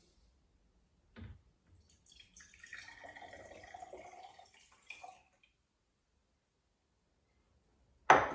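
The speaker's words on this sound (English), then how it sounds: "Tip the water in." Water is tipped into the reservoir of a vintage Kambrook Cafe Espresso machine, heard as a few seconds of soft trickling and splashing after a brief knock, followed by a loud clunk at the end.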